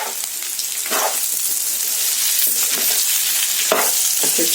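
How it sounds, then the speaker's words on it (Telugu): Chicken red roast stirred in a hot pan: a steady close sizzle of frying runs throughout, broken by several scraping stirs of the spoon through the meat, with no talking. "ఇలా యాడ్ చేసుకొని దీన్ని ఒకసారి కలుపుకున్నాము."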